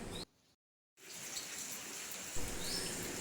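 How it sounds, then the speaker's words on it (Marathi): Heavy monsoon rain pouring outside a house, a continuous wash of falling water that cuts out briefly near the start, then returns as a steady, dense hiss with a slight swell late on. "बाहेर असा खूप पाऊस चालू आहे."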